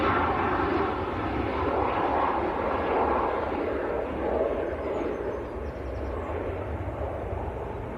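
A Ryanair airliner bound for Rome roars at Manchester Airport, a loud, steady broadband jet rumble that holds nearly constant across the whole clip with no talking.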